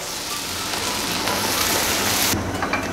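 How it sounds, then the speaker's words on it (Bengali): A cup of chopped onion sizzles in hot oil for beef tehari, a loud, dense, steady crackle filling the whole moment with a brief change near the end. "এবার দিয়ে দিলাম এক কাপ পরিমাণ পেঁয়াজ কুচি পেঁয়াজটাকে নেড়ে ছেড়ে দিই একটু ভেজে নিচ্ছি হালকা করে"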